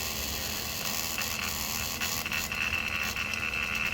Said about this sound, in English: before starting the vacuum pump you should open this valve so that it starts sucking